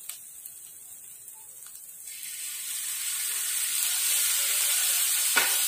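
Soy sauce poured into a pan of bamboo shoots adobo sets off a hiss that starts quietly and builds into a steady, close sizzle.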